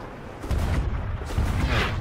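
Deep booming ship cannon fire rumbles in the Sea of Thieves pirate game, two heavy low blasts in quick succession, loud and close.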